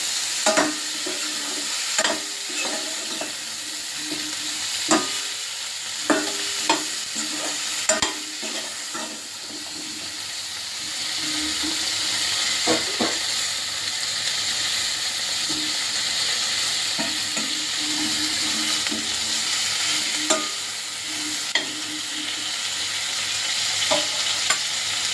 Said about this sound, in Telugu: ఆనియన్స్, టమాటా కూడా వేసుకోవాలి. ఇవి లైట్గా రోస్ట్ అవ్వాలి.